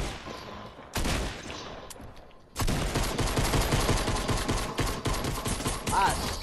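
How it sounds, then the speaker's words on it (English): Bursts of video game gunfire in Fortnite, several rapid volleys and overlapping shots, loud and close, with a brief lull before a sustained heavy barrage. "All those shots went left, right, left, right, left."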